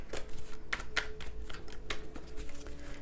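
Tarot cards are shuffled and riffled by hand, with quick papery flutters and soft taps in an irregular rhythm, fairly quiet.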